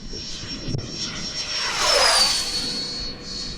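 A Freewing F-15 RC jet passes fast and close on a windy day, its ducted-fan whine rising to a loud peak and sweeping down in pitch as it streaks by, then fading with wind rumble underneath.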